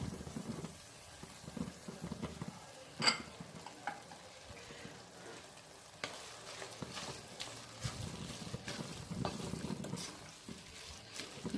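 A spoon stirs fish biryani masala with a handful of mint leaves in a pot, giving soft scraping and gentle sizzling with occasional sharp clinks against the metal, close and fairly quiet.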